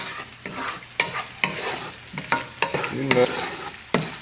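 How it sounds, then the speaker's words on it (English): Onions sautéing in a hot pan for a lobster and shrimp mac and cheese dinner, with a steady sizzle and repeated sharp stirring scrapes about every half second, close and fairly loud, with a brief spoken aside. "Let that saute."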